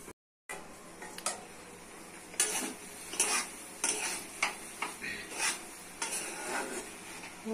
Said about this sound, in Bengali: চাপা দিয়ে দিয়ে রান্না করতে হবে।